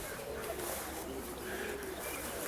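White Racer pigeons cooing steadily in a loft where young birds mingle with old ones, a soft continuous murmur of coos over a broad hiss of background noise.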